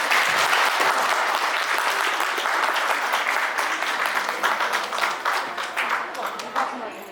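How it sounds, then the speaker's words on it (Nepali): Guests at a Nepali Christian wedding ceremony break into loud, sustained applause, a dense wash of clapping that holds strong for several seconds before easing slightly, with faint voices mixed in. "जोरदार ताली हुन्छ।"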